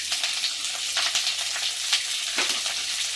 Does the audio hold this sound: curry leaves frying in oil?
yes